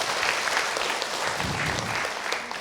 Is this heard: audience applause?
yes